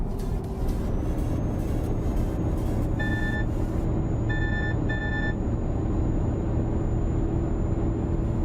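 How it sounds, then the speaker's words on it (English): Lane keep assist warning chimes in Euro Truck Simulator 2, a few short high beeps in quick bursts over the steady low rumble of the truck engine and road noise. "The sound you hear is the lane keep assist going nuts with my crazy driving"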